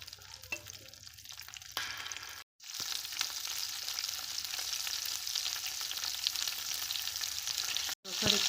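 Oil sizzles steadily in a pan on a stove while stuffed okra cooks, a loud, even crackling hiss that runs almost unbroken, with two brief cuts to silence.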